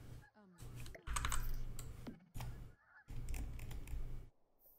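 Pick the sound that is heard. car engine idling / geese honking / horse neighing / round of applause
geese honking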